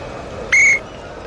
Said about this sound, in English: Ref draws a whistle